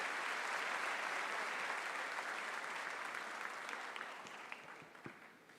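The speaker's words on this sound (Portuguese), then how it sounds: "Dê um glória a Deus e também um aplauso bem forte ao Senhor Jesus." A church congregation applauds in sustained, dense clapping that fills the room, then thins and fades toward the end, leaving a few scattered claps.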